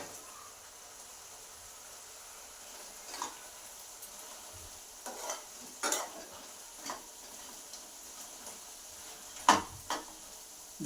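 Onion gobi manchurian fries quietly in a pan while it is stirred. A faint, low sizzle runs throughout, broken by sparse scraping and clinking strokes of a utensil against the pan.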